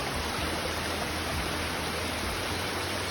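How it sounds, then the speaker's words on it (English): Rushing water splashes over rocks beside a hiking trail on Hurricane Ridge, a dense, steady roar that fills the clip at close range without any break or voices. "we got rushing water all around us,"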